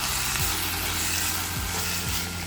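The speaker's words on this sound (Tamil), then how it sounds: "அது ஒரு கப் சேர்த்து அதையும் நல்லா வதக்கினீங்கன்னா" Continuous sizzling and frying of ridge gourd peel sautéing in a hot pan, with a few soft scrapes of stirring, steady and close throughout.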